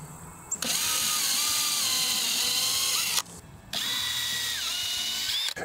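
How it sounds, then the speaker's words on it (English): A power drill bores pilot holes for camper table leg mounting brackets, a loud, steady whirring run, a short pause, then a second long burst of drilling close by. "and drill two pilot holes."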